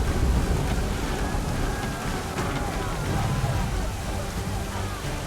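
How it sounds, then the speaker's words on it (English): Stormy sea in Assassin's Creed III, steady heavy rain and wind roaring around a sailing ship with a low rumble of thunder, a constant loud wash of noise lasting the whole clip. "There's a storm coming, Captain."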